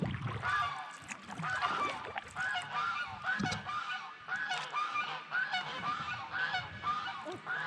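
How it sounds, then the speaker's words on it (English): Several geese of a kind other than Canada geese honk repeatedly from a riverbank along the Suwannee River as kayaks paddle past, clear overlapping calls at moderate distance. "Some type of goose, not a Canadian goose"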